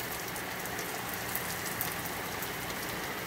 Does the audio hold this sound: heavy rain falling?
yes